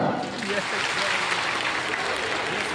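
An audience at a Kannada comedy stage show, the men asked to clap, gives a steady burst of applause lasting a few seconds, dense and even throughout with voices mixed in.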